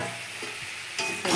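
Fried cauliflower tipped into hot oil and stirred, a close, steady sizzle with scraping stirs that rises to a louder hiss near the end of a brief stretch.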